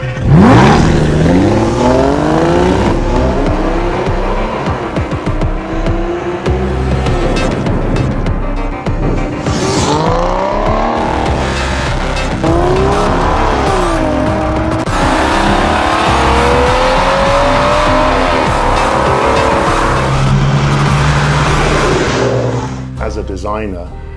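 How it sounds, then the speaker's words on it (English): An Aston Martin DB9 engine revs in rising and falling sweeps, loud and close, with a person talking over much of it. "There is nothing like the sound of a DB9 when you first fire the engine."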